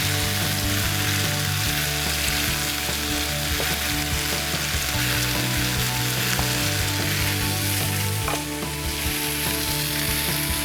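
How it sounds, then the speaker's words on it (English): Parmesan-crusted salmon fries in a hot pan, a loud, steady, dense sizzle that continues throughout with a few faint scrapes, no voices. "the secret is going to be to cook the fish without burning the cheese"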